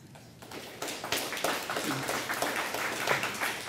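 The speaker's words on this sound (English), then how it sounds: "every time I stop, you feel like you have to applaud" Audience applause after a poetry reading at an art center, a small crowd clapping in a steady patter that swells after a quiet start.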